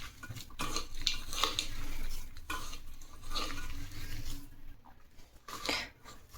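Sago and potato mixture mixed by hand with roasted peanut powder, green chilli and salt in a bowl, steady squelching and scraping strokes up close with short pauses, no talking.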